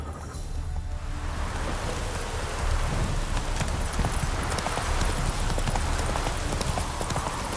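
Hooves of Roach, a horse in The Witcher 3, clopping in a rapid steady rhythm over a constant wash like rain. The sound is fairly loud and continuous, with no clear speech.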